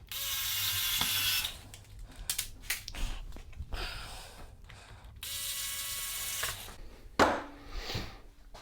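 A part on a Noatronic onboard expression controller being tightened with a ratcheting tool: several bursts of rapid clicking, close and moderately loud, separated by brief pauses.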